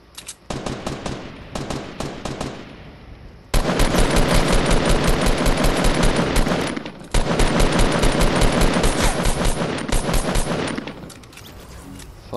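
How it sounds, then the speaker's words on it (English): Rapid automatic gunfire in a video game, loud and close, with short bursts at first and then long sustained strings of shots broken by a brief pause. "Shots fired."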